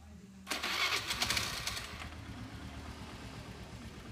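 A Honda Vario scooter with a double-starter fault is started: a sharp burst of starter cranking catches into a loud engine that settles into a steady, close idle, with no talk over it.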